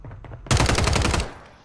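Rapid automatic gunfire from Call of Duty Warzone on Rebirth Island, a loud sustained burst of about three-quarters of a second that cuts off abruptly, with a faint single shot near the end.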